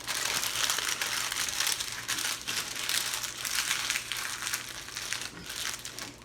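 Foil and parchment being crimped and rolled into a campfire cooking packet, giving loud, close, continuous crinkling and crushing bursts that rise and fall in waves.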